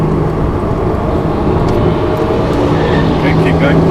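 A Porsche drives on a racing track, its engine a steady loud drone heard from inside the cabin, with an instructor talking over the running car throughout.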